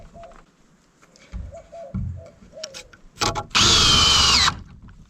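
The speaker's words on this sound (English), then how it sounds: "Let's sink some screws in real quick." A Walmart cordless drill whirs in a short, loud burst driving screws near the end, following some quieter handling clatter and a few small knocks.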